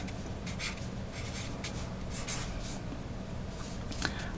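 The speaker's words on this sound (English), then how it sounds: "So I write out my number." A pen or pencil writing numbers by hand on paper, faint soft scratchy strokes in short bursts over a steady background hiss.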